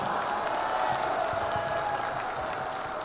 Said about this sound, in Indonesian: Tepuk tangan sekali lagi untuk kita semuanya